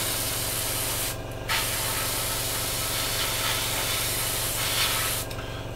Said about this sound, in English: Airbrush is coming up.